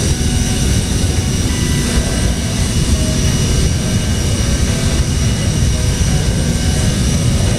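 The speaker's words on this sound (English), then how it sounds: "Hopefully this aircraft will auto descend considering that it has VNAV." Aerosoft CRJ V2 jet airliner engines in Microsoft Flight Simulator, a loud, steady cockpit drone with a constant turbine whine and low rumble and no breaks throughout.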